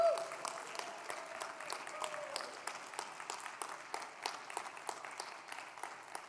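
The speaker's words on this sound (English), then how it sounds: "keep clapping until I get there" An audience at a security and compliance conference session applauds continuously, a dense wash of many hands clapping at a moderate distance, with a brief voice at the start.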